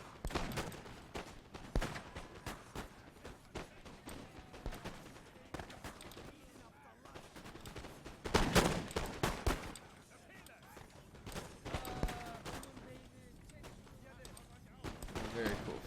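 Napoleon: Total War battle between Ottoman and Austrian armies, with fusilier infantry firing muskets in a dense, ragged crackle of volley shots that rises and falls while someone talks over it.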